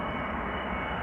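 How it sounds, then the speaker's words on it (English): An Airbus A330-200 airliner arrives at Amsterdam Schiphol Airport, heard as a brief, steady, broadband engine roar at moderate distance, with no talking. "A330-200 arriving from Istanbul, flight 1951."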